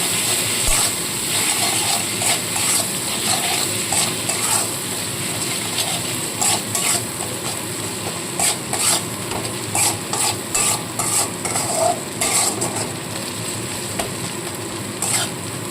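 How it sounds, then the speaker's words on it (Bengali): Green chili and ginger paste frying in a pan, with a constant soft sizzle and a long run of quick, rhythmic taps and scrapes from a stirring spoon, close and fairly loud, without speech. "কাঁচা লঙ্কা আর আদা বাটাটা দিয়ে একটু কষিয়ে নেবো"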